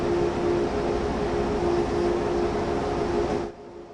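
A train running on the Main-Spessart line in Train Sim World 5 gives a steady, loud rumble with a faint tonal hum, then drops away sharply near the end.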